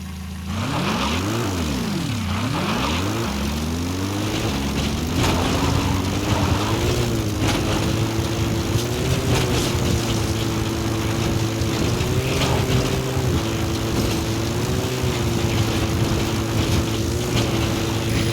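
Support helicopter arriving in Metal Gear Solid V, a steady loud rotor and engine drone that sweeps in pitch at first, then holds a continuous thrumming hum for about eighteen seconds with no talk.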